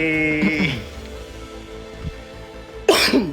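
Two short coughing bursts, one early and one near the end, with a quiet stretch between them; close and fairly loud.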